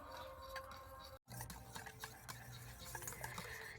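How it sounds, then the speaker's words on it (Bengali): Batter with sugar whisked in a bowl, a quick repetitive scraping and tapping of the whisk against the bowl, fairly quiet and close, broken by one brief pause near the start. "তো দেখুন, এইভাবে সুন্দর করে কিন্তু ফেটিয়ে নিতে হবে।"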